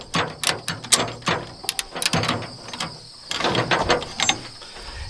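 A retractable ratchet tie-down strap is worked nearby in quick bursts of sharp ratcheting clicks. There is a short pause midway, then another rapid run of clicks, with no talk.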